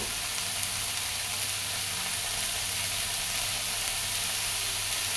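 Soybean chunks frying in a pan with onion, garlic, cumin and coriander powder give off a constant, even sizzle and hiss, close and unbroken, with no talk over it.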